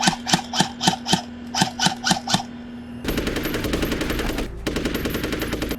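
Gunfire in Steven Seagal movie footage: two clear groups of rapid, evenly spaced shots, then a dense, sustained automatic burst that briefly pauses and resumes, loud and close.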